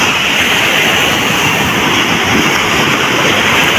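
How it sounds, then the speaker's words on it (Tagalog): Large ocean waves crash and surge continuously during a lobster-fishing outing, a loud, steady broadband roar close to the microphone with no talking. "At ang laki po ng alon."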